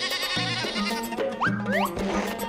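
Goats bleat in a short, wavering cry that rises and falls, heard up close over a background of steady music.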